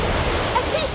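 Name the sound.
Orb of Water spell cast in video game Harry Potter Magic Awakened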